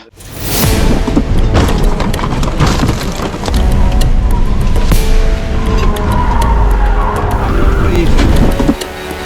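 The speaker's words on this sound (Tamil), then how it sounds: "car accident" A car accident scene from a Tamil film, with loud tires skidding and an engine roaring continuously for several seconds, close and intense, ending abruptly.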